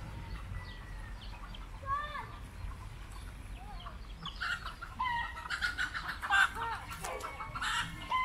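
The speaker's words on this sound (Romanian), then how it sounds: "ei fugăresc găinile vreun sfert de oră" Chickens clucking and squawking at a moderate distance as children chase them around a yard, with irregular bursts of agitated calls rising toward the end over steady outdoor background noise.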